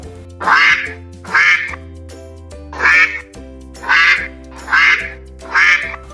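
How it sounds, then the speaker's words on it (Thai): A duck quacks six times in a steady rhythm, each quack loud, nasal and close, with brief quiet gaps between. "เป็ด"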